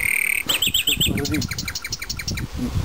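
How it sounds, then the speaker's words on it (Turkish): A canary trills and chirps in quick, bright repeated phrases, close and fairly loud, with a low murmur of voices underneath. "etrafta kanarya da var"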